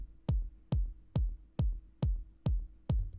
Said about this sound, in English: Without my FX chain, the raw kick sample sounds like this.